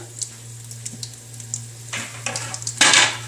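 Bay leaf and dried red chillies sizzling in hot oil, with light crackles and a few stirring scrapes, then a louder burst of frying near the end over a steady low hum.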